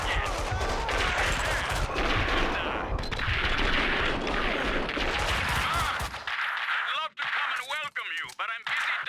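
Gunfire rings out in the shooter game Max Payne 2, loud and sustained for about six seconds as rapid bursts and shots pile up, then giving way to scattered effects and a few sharp sweeps.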